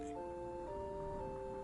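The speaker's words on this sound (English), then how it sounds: "That sound was the car to Lindblum departing." In Final Fantasy IX, the car to Lindblum departs with a soft, sustained tonal hum that holds steady and quiet throughout.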